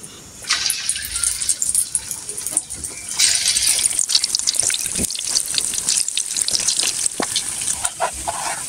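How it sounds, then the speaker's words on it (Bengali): Onions dropped into hot oil spark a loud, close crackling sizzle that swells as more go in, with bursts of spitting and a few sharp clatters against the pan. "তো এখন আমি পেঁয়াজগুলো দিয়ে দিচ্ছি। তেলটা গরম হয়ে গেছে।"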